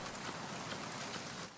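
Steady rain pours down outdoors in the game Metal Gear Solid 2: Substance, a dense, even hiss that stays loud throughout with no talking.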